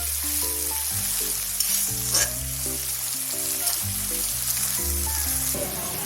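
Onions frying in a pan hiss and sizzle steadily throughout, close and even, with music playing underneath.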